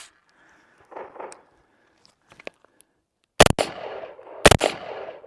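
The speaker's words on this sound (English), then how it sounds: "Let's get the first rounds through it." A Blackout Defense pistol chambered in 300 Blackout fires Winchester supersonic rounds: four sharp, loud reports in two close pairs, each ringing with a reverberant tail, after a few quieter handling clicks.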